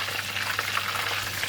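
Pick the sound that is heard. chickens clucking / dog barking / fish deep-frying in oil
fish deep-frying in oil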